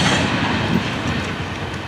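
Freight train of empty hoppers and jumbo tank cars rolling past, a loud steady rumble of wheels and rattling cars close by, with no talking.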